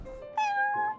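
A cat meows in the Genshin Impact video game, a single drawn-out, clear meow rising after a softer lead-in tone, close and distinct with no talk over it.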